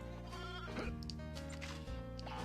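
A sheep bleats in the Toy Story 2: Buzz Lightyear to the Rescue! video game, giving two loud wavering cries over steady game music and sound effects.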